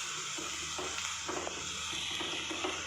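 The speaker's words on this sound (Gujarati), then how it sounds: "ઝીણી ચોપ કરેલી ડુંગળી, ગેસની ફ્લેમ સ્લો કરીને આપણે એને શેકી લેવાની છે" Finely chopped onion sautés over a low gas flame for Kathiyawadi dhokli, giving a steady close sizzle with soft rhythmic stirring scrapes throughout and no talk.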